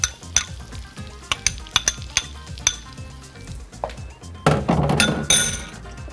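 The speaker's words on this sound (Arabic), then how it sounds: "هحط عليه البصل الاحمر الشرايح" Sliced red onion hits oil with cumin seeds, bursting into a loud sizzle after a run of sharp taps and clinks of utensils against the pan.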